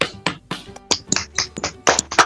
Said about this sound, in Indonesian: Ayo tepuk tangan untuk Mutia.